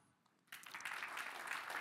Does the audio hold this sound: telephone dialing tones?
no